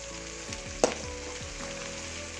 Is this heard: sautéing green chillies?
yes